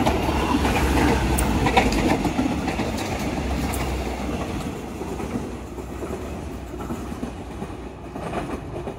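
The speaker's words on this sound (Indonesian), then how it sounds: "Ada kereta bias Bandara Internasional Adi Sumarmo lepas stasiun" An airport rail link train to Adi Sumarmo International Airport pulls out of Purwosari station with a steady, rumbling roll of wheels and carriages that slowly fades as it moves away.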